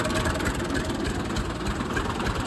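A tractor engine idles with a low, steady chugging rumble, even and continuous, heard nearby with no talking.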